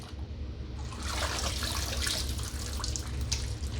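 Leaf lettuce pushed down and stirred by hand in a tub of washing water gives a steady, close sloshing and splashing that swells after the first second and keeps going without a break.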